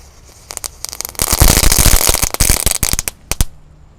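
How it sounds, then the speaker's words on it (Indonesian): Four disco pretek firecrackers lit together crackle in a dense, loud burst of rapid pops that swells after about a second, sputters on with scattered cracks, and dies out near the end. "Selanjutnya kita nyalakan mercon disco pretek. Ini ada 4 sekaligus ya."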